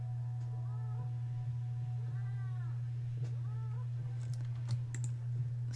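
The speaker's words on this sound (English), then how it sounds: "please kill all these cats. They're eating our food." Cats meow in the video game RimWorld: three short, clear meows spaced about a second apart, over a steady low hum and scattered keyboard-like clicks.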